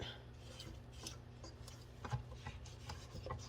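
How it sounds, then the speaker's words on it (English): Spatula scraping the side of a bowl of German chocolate cake batter, giving soft irregular rubbing and scraping strokes close by over a low steady background hum. "Now I'm gonna scrape the side of the bowl"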